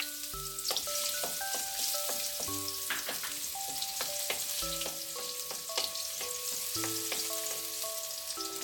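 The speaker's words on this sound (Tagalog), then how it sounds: "And then igigisa lang natin yung bawang o yung ating garlic." Garlic sizzles and fries steadily in hot cooking oil in a pan, a constant crackling hiss under a light melody of tones, with no voices.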